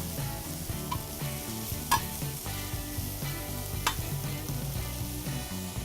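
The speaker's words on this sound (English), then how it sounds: "We're really going to cook these down, and those mushrooms are going to kind of exude some juice" Mushrooms cooking down in a pan for chicken Marsala, giving a steady sizzle with stirring clatter beneath a continuous music bed, plus a couple of sharp utensil clinks.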